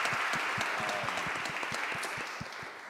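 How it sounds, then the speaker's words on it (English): Audience applause fills a symposium hall on criminal justice reform, a steady wash of many hands clapping at moderate distance, holding even across the span with individual claps popping through. "Round of applause for them, please."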